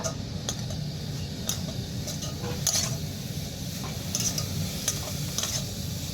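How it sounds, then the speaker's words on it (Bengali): Salt and turmeric get mixed into food frying in a pan: a low steady sizzle under light, irregular spatula taps and scrapes against the pan, near and quiet, without speech. "দিয়ে দিচ্ছি স্বাদ মতো লবণ হাফ চামচ হলুদের গুঁড়ো এবার আমি হালকা করে একটু মিশিয়ে নেব"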